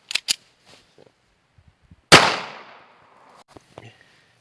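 A single loud 9mm pistol shot fired through a book, a sharp crack with a long decaying tail, preceded and followed by a few small handling clicks.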